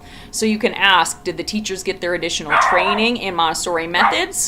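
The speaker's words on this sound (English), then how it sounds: "Pardon my dog barking in the background." A pet dog barks and yips in the background while a woman lectures continuously over it, the barking partly masked by her close, clear voice.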